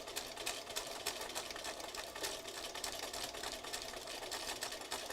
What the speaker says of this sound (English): I think let's try doing some diagonal stitching.